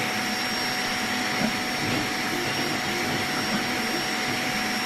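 A Creality K1 high-speed 3D printer prints, giving off a loud, continuous whirring drone of fans and fast motion. The sound is steady and unbroken, with faint rattly flutters in the mechanical noise.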